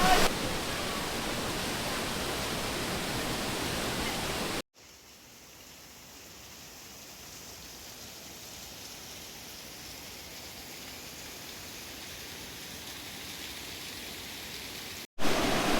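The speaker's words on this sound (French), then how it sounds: "Quatrième cascade." A waterfall in Ecuador, the fourth along a trail, roars as a continuous broadband rush, loud at first, then softer and more distant after an abrupt cut, before a louder burst returns at the end.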